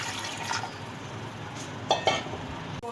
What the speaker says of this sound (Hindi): और इसमें इतना पानी डालेंगे कि गोश्त गल जाए।